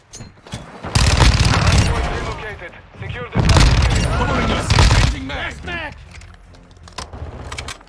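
VTOL killstreak aircraft in Modern Warfare 2 firing in heavy, roaring bursts that rise and fall over several seconds, with someone talking over the barrage.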